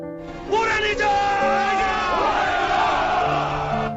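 A crowd at a feast roars with loud, continuous cheers and wavering shouts from many voices, a massed boisterous din that swells and holds for several seconds.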